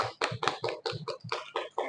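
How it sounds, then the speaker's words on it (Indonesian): A class applauds group 2 in a teaching session, a short burst of hand claps with distinct loud claps standing out in an uneven rhythm, close and continuous for about two seconds. "kita berikan tepuk tangan untuk kelompok"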